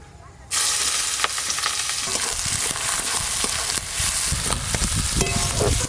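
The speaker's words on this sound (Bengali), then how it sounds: "পেঁয়াজ ভেজে নিয়েছি" Chopped onions for a fish kalia hit hot oil with a sudden loud sizzle that settles into a dense, continuous frying hiss, with occasional stirring scrapes up close.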